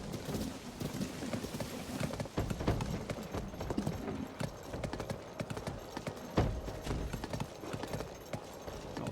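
Horse hooves clip-clop steadily in a dressage-style zigzag ride in Zelda: Tears of the Kingdom, a continuous trotting rhythm over ambient game sound.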